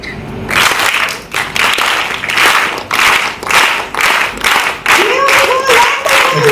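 A crowd claps on cue in short synchronized bursts, about nine loud rounds of applause in a steady rhythm, each burst lasting under a second, at an education forum in Kolkata.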